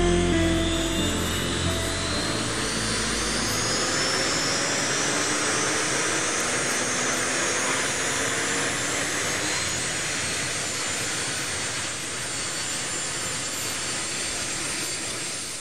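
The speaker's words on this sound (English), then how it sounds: "the twin-rotored Chinook has been in service since the Vietnam War in 1972" A twin-rotor military Chinook helicopter roars steadily nearby, a loud, dense, broadband whine and rumble with a thudding low rotor beat, sustained throughout without pause.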